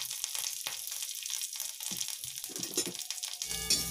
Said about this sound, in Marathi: आता थोडंसं आपण तेल घालून खोबरं भाजून घेऊया